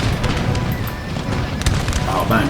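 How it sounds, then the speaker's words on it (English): Cannons fire in a battle in the video game Empire: Total War. Dull booms and distant blasts rumble over a steady din of battle as a voice talks over them. "Oh man, cannons."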